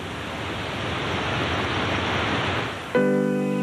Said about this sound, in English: The sound of the wind in the upper branches of this noble giant is soft and distant.